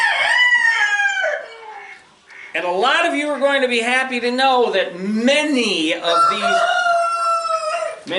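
A rooster crows loudly and repeatedly, long strained calls close by, with someone talking over the crowing.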